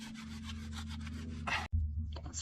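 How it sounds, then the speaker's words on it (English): On an Alfa Romeo Giulia with a ZF8 gearbox, a transfer case drain plug is threaded back in with a quick series of quiet, rhythmic scraping strokes, ending in a sharp knock and a few softer clicks. "you have to close again the drain plug, as I'm doing here"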